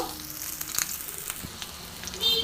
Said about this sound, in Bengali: এবার এগুলো কিন্তু শ্যালো ফ্রাই হচ্ছে।